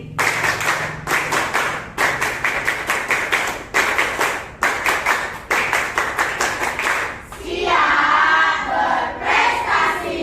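Sixth-grade pupils in a classroom beat out a rhythmic concentration clap in sharp, evenly grouped bursts, then break into a loud group shout near the end.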